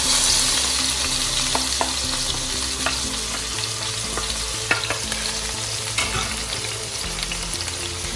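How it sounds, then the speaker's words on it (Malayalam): Sliced tomatoes and yellow pepper frying in hot oil for a Kerala-style spicy beef fry, a loud continuous crackling sizzle with occasional stirring knocks, close and with no voices. "Just kind of fry it."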